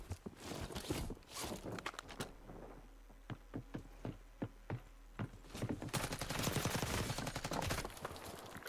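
Gunfire in the video game Warzone: sharp, separate shots crack out at an uneven pace, framed by denser bursts of rapid firing and busy game noise, loud and close with no talking.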